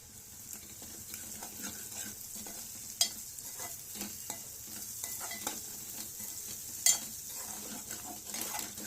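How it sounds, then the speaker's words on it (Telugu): Ginger garlic paste sizzles steadily in a hot pan, with scattered clinks and scrapes of stirring and a couple of sharper knocks, and no talking. "ఇప్పుడు ఏం చేస్తామంటే వేస్తాం కొంచెం అల్లం వెల్లుల్లి పేస్ట్ కొంచెం వేస్తాం"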